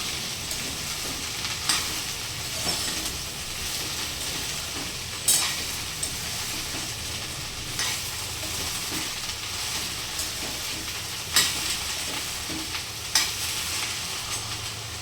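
Okra sautéing in a pan, an even hissing sizzle punctuated every couple of seconds by brief scrapes and taps of the spatula turning it, close and steady with no talking.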